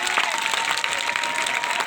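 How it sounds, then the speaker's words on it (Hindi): Loud, dense applause from a large crowd at an outdoor poetry recital during a temple consecration festival, continuous and close throughout. "एक बार ताली बजाओ जोरदार"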